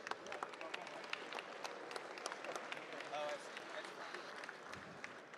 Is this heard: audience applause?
yes